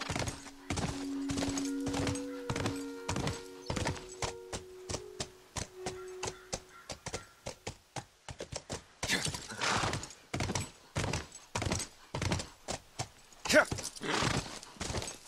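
Horse hooves clip-clop in a steady walking rhythm across a city university area in The Last of Us on PS3, with an in-game tone at the start and occasional louder knocks.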